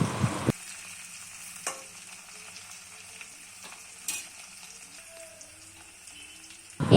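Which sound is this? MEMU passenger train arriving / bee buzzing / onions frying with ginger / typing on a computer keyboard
onions frying with ginger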